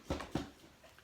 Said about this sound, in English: Pardon the weird noise in the background from my dog.